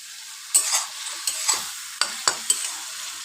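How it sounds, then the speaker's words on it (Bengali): Fried potatoes go into a pan of spices for a Bengali pumpkin-fritter curry, and a spatula scrapes and stirs them in several quick strokes over a soft, steady sizzle. "আলু ভাজাগুলো দিয়ে দেবো।"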